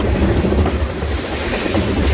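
A freight train rolls past close by with its caboose, giving a steady loud rumble and rail clatter that fills the whole stretch with no voices.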